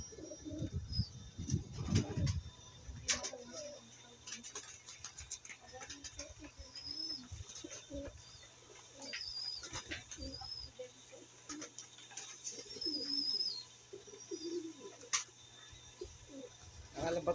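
Pigeons coo softly outside their loft, a quiet scattered murmur of low calls alongside faint high chirps, rustling and occasional taps, with a voice speaking briefly near the start.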